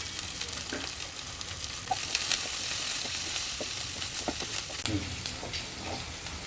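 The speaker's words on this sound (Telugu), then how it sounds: "కరివేపాకు మూడు ఒకసారి వేసేసుకోవాలి." Curry leaves, onions and green chillies crackle and sizzle steadily in hot oil in a home kitchen, with occasional louder pops and the scrape of stirring, no voices.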